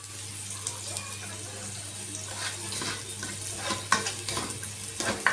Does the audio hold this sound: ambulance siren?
no